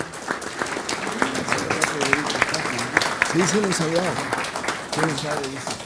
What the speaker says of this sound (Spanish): Los saludamos con nuestro aplauso cordial